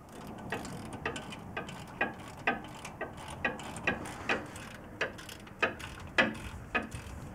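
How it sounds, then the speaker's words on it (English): A hand ratchet tightens brake bolts on a 2009 GMC Canyon during a front brake job, giving a steady run of crisp clicking pawl strokes at close range, roughly one or two per second, with no talk. "Then take your ratchet and tighten them down nice and tight."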